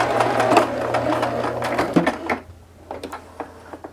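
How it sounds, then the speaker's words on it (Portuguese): A sewing machine runs steadily, stitching across the waist elastic of a pair of shorts, its motor whir and rapid needle chatter filling the first two seconds before stopping, followed by scattered soft clicks and fabric handling. "Vou passar uma costurinha aqui em cima do meu elástico"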